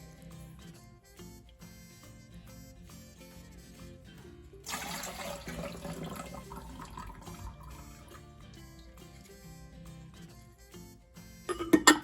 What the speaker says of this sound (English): I'm going to give them another little rinse.